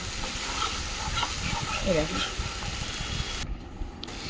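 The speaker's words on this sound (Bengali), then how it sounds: "এবার মশলাটাকে ভালো করে কষাতে হবে যতক্ষণ তেল ছাড়ে না ততক্ষণ অবধি মশলাটা ভালো করে কষিয়ে নেব" Constant hissing sizzle of a ground spice paste with cumin frying in oil for a Bengali koi fish curry, steady and close with faint stirring scrapes and soft talk underneath.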